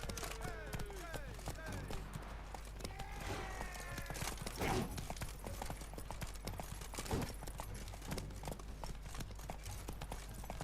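Horse hooves clip-clop in a steady, even gait through The Witcher 3 video game, the rhythmic thuds running the whole time against a busy background of in-game sounds.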